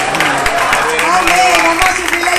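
A church congregation claps along at a couples' workshop service, with steady, dense applause over music and voices, and people talking throughout.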